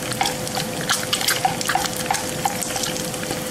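Eggs fry in oil in a pan that is not quite hot enough, a soft continuous sizzle with scattered small pops and crackles at moderate volume, with no talking.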